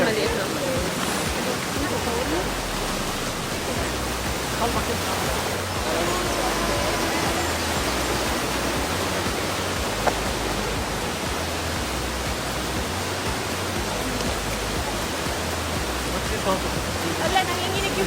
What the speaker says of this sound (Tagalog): Ito yung maliit na falls.